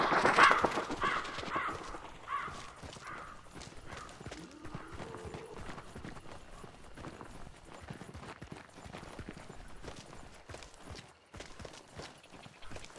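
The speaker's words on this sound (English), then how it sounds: "There's more fucking birds." Crows caw repeatedly in a bayou setting in Hunt: Showdown, a cluster of harsh calls at the start that fades as footsteps and game ambience continue underneath.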